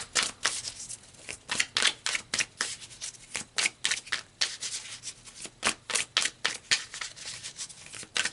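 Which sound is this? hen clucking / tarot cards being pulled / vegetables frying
tarot cards being pulled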